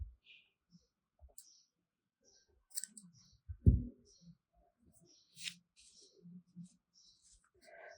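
Scissors cut crochet yarn from the back of a ribbon bow motif, giving a few sparse, faint clicks with one sharper snip midway, amid quiet handling noises and near silence.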